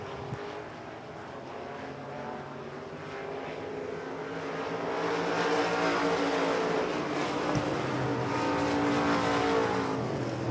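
Race cars at Devil's Bowl Speedway run around the track, a continuous engine roar from a distance that swells and grows louder as the pack approaches, with no voices.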